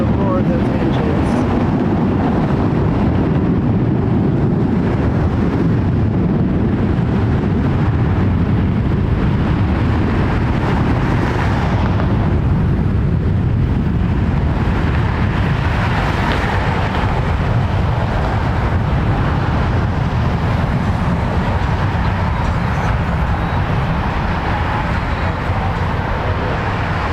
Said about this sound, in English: listen to the roar of those engines